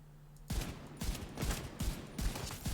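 M1A rifle fire in the video game The Division 2 comes as a rapid series of about six punchy shots at a steady rhythm, each with a boomy low thump, at moderate level over faint background.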